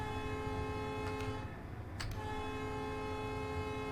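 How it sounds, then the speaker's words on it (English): A video game train horn in Train Life sounds as a sustained, steady multi-tone blare over the rumble of the train, with brief clicks around the middle. "I'm going to keep sounding the horn"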